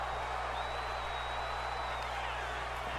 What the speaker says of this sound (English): And now the crowd chanting for women's wrestling.